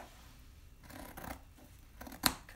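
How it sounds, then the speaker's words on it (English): Scissors snipping off loose fabric ends while laying out a sewing pattern, a few quiet soft cuts ending in one sharper close snip. "Cut those ends."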